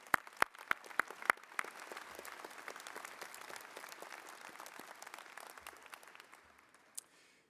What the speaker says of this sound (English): Let us give them a well-deserved round of applause.